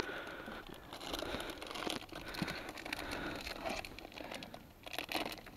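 Tough plastic packaging crinkles, crackles and tears as it is worked open with small scissors during a fishing trip, with close, irregular rustling and sharp snipping clicks over a steady outdoor background.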